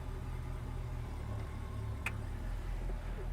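A 1967 Pontiac GTO convertible's engine idles with a steady low rumble, smooth and even throughout, with a faint brief click partway through and no one speaking.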